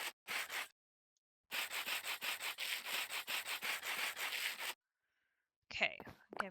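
Sandpaper rubbing in Minecraft: a short scratchy burst, then a long run of quick, even back-and-forth rasping strokes, crisp and close, followed by silence and a brief voice at the end.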